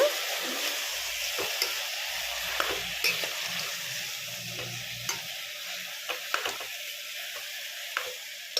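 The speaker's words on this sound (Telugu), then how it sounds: "ఇప్పుడు ఇది కలుపుకోవాలండి మొత్తం." Tomatoes, brinjal and potatoes are stirred in a cooker, with repeated spoon scrapes and knocks over a continuous sizzle, close and fairly loud, with no talking.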